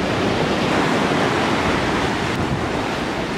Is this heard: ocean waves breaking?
yes